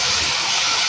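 A hilsa fish mixture hitting hot oil with nigella seeds in a pan, producing a loud, steady, close broadband sizzle that fills the whole moment without pause.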